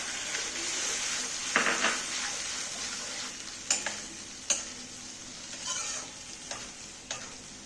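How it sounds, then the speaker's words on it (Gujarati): Puree from two tomatoes cooks in a pan for Punjabi-style dum aloo, giving a low bubbling sizzle broken by several sharp clicks and scrapes of stirring, with no voices. "બે ટામેટા લીધા છે, એની પ્યુરી નાખી દઈશું હવે આપણે।"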